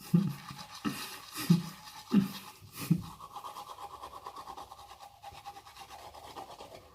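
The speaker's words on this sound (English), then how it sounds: "Every day I stream myself brushing my teeth" A toothbrush scrubbing teeth in a few short rhythmic strokes up close, followed by softer, fainter brushing and rubbing.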